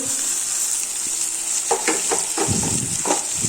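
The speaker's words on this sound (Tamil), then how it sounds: "நல்லா வதக்கி விடுங்க" Beetroot with grated coconut sautés in a hot pan, a steady close sizzle broken by several scraping strokes of a spoon stirring it, with no talking.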